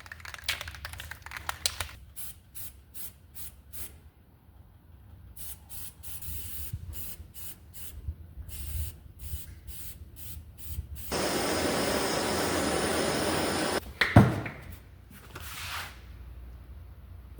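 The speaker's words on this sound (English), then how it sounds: "use some spray paint instead" A spray paint can hisses in one steady burst lasting a few seconds while painting a jointed crankbait fishing lure, after scattered clicks and rustling handling noises, followed by a sharp knock.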